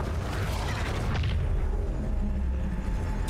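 A gunshot and a deep blast from the Dragon Age video game, with a loud low boom that swells and rumbles on through dense game ambience.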